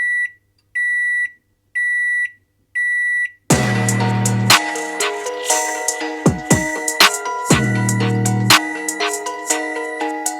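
A microwave sounds four evenly spaced, loud electronic beeps when the food is done, then music with a heavy beat follows.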